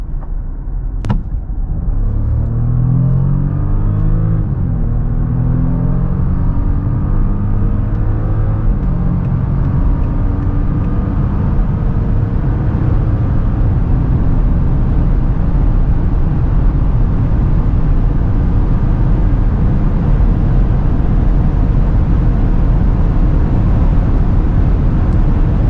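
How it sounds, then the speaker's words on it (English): A Volkswagen Touareg R, a heavy, large SUV on 22-inch wheels, accelerates hard from 100 to 200 km/h, its loud, steady engine drone and road roar rising through gear changes for nearly half a minute with no talk. "So let's now see how fast the Touareg R goes from 100 to 200."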